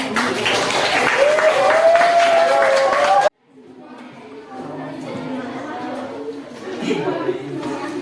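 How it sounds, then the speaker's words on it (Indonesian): Classroom applause from students at a teaching session, a dense patter of clapping with voices and a rising tone mixed in, cutting off abruptly partway, then softer chatter and movement in the room. "kasih tepuk tangan"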